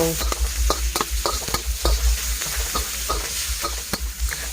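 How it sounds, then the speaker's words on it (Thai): Pork belly is stir-fried in a pan, crackling and sizzling steadily up close while a spatula scrapes and knocks against the pan in repeated strokes. "ผัดหมูให้หอมๆแล้วก็สุกก่อนค่ะ"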